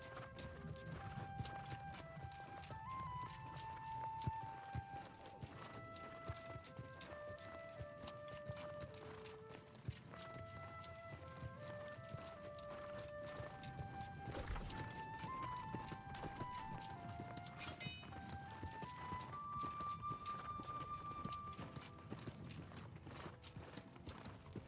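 A horse mount galloping in the New World video game, rhythmic hoofbeats running steadily under a melodic in-game music score that carries over the whole stretch.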